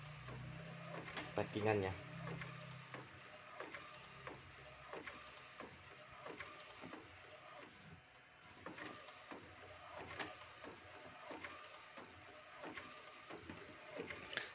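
An Epson L1300 printer running an A3 Plus test print, with steady mechanical whirring and regular clicking of its gears and carriage, while someone talks briefly near the start.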